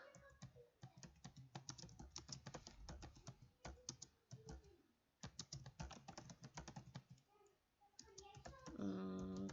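Rapid, uneven clatter of keys being typed on a computer keyboard, close up, with brief pauses between bursts.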